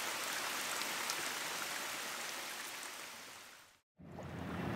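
Steady rain on the Scottish island of Altor, a dense even hiss of drops falling close by, briefly cutting out before resuming.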